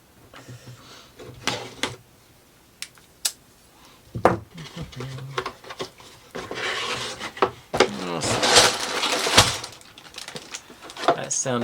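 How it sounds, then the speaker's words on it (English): Bags of Lego pieces rustling and shifting in a box for a Star Wars Mandalorian helmet set, with close plastic crinkles, thumps and scrapes that build into a louder jumble of rustling toward the end. "That sounded like a lot of bags."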